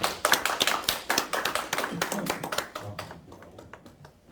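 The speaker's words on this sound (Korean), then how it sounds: "환영의 박수 부탁드립니다" Welcoming applause from a conference audience at a negotiation practice event, a burst of crisp, fairly close hand claps that thins out and fades after about three seconds.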